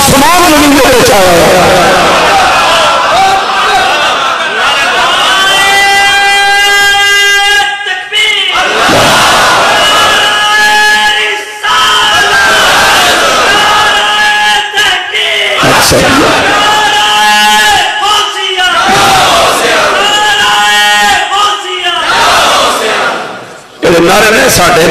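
A crowd at a mosque gathering bellows religious slogans in loud, rhythmic call-and-response bursts that swell and drop off repeatedly, with a voice leading and shouting between the chants.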